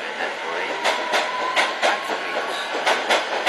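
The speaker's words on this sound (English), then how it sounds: "I am at Baker Street. The train going to Watford, but I will get off at Moorpark" A London Underground train at Baker Street station rolls along with a steady rumble and rhythmic clickety-clack of wheels over rail joints, continuous and fairly loud throughout.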